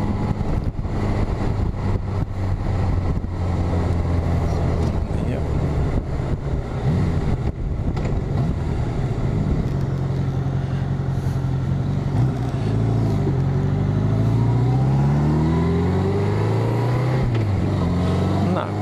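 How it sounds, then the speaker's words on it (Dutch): Steady road and engine noise from inside a car joining a main road toward Sommelsdijk, with passing traffic swelling and fading and a rising engine tone near the end; someone talks over it now and then. "Ja, ik zie een boel verkeer."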